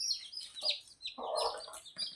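A village hen clucks close by while her chicks give high, thin cheeps, with the calls overlapping in short bursts at a fairly faint level.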